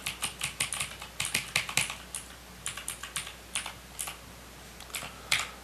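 Typing on a mechanical keyboard with spring switches: quick bursts of crisp, close key clicks in uneven rhythm, pausing briefly between runs of keystrokes, heard alone with no talk.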